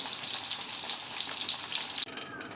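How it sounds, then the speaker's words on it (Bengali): A bright, hissing crackle of ash gourd slices frying in hot oil, continuous and close, cutting off abruptly near the end. "বাকিগুলো যে ভাজা হচ্ছে।"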